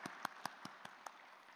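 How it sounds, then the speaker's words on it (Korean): Sparse, slow claps from a few people during a church anniversary service, six distinct hand claps spaced about a fifth of a second apart, fading out into quiet room tone. "우리 감사의 박수를 함께 보내는 시간이 되었으면 좋겠습니다"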